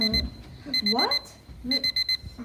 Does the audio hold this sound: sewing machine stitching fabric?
no